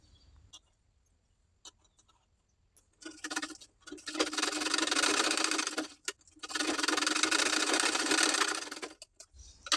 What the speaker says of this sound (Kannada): ಈಗ ಇನ್ನೊಂದು ಸೈಡ್ ಟಕ್ಸ್ನ ಸ್ಟಿಚ್ ಮಾಡ್ಕೊಳ್ಳೋಣ